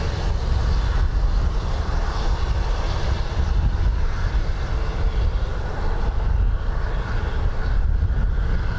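An airplane at Dublin Airport in high winds, a loud, steady engine roar close by that holds strongly for the whole stretch with gusty wind noise mixed in.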